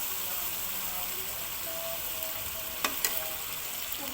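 Chicken karahi with tomatoes sizzles steadily in a pan, a soft continuous frying hiss with a couple of brief utensil clinks near the end, fairly quiet and without voices.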